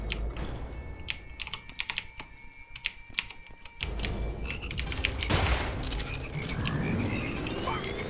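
Rapid weapon fire in a video game, a fast stream of sharp shots at first, then a denser, louder barrage with explosive game sounds and effects continuing over a steady background.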